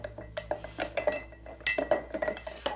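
Paint being stirred for a Matchbox 65C Claas Combine Harvester model restoration, the stirrer clinking quickly and repeatedly against a small glass container in close, light ticks and taps.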